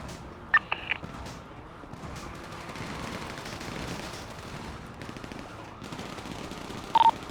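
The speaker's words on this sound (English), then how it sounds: "Someone else is shooting." Gunfire in a tactical police breach video game: a few sharp shots early, a brief burst near the end, set against a steady busy background of game ambience.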